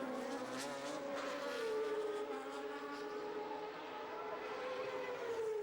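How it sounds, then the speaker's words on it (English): A 1989 Honda Formula One engine fires up and holds a sustained high-pitched whine over a race-circuit crowd, with a steady tone that shifts slightly in pitch. "And finally the Honda engine fired to a cheer from the pro-Honda crowd"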